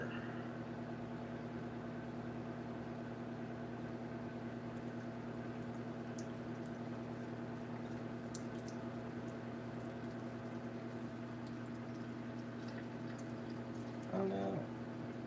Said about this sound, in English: Take your boiling water